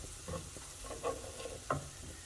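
Onion and garlic sautéing in a pan for a creamy chipotle chicken dish, a steady soft sizzle with a few louder scraping stirs of a utensil, close and alone without talk.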